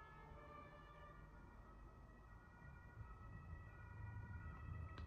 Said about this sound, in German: Und natürlich Tatütata im Hintergrund, was wäre ein Video ohne Tatütata?